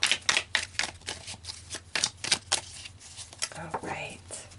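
Tarot cards are shuffled and drawn by hand, with a run of close, crisp riffling flutters and taps, joined near the end by soft murmured speech.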